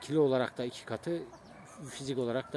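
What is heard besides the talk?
No distinct noise like a dog, phone or traffic.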